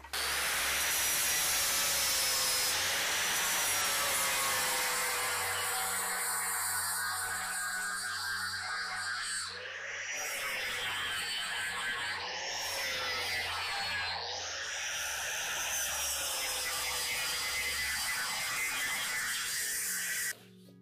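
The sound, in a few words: grinder cleaning up welds on car window corner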